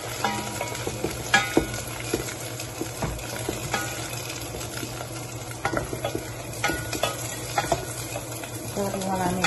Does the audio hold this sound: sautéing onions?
yes